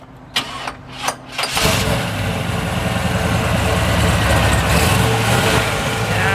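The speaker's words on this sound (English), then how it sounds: "We're going to go ahead and fire this bad boy up for you." A 1972 Chevrolet Corvette V8 engine cranks a few times, then roars to life and settles into a loud, steady rumbling idle, close up.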